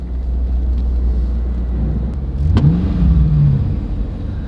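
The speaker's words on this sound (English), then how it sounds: "I'm gonna rev it." A rotary-engine car idles with a low rumble, then revs up briefly with a rising, growling roar before settling again.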